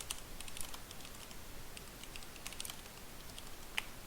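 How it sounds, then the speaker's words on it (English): Fingers type steadily on a computer keyboard, a quick irregular patter of light key clicks with a sharper tap near the end, close and without talking. "let me make sure I'm typing this right."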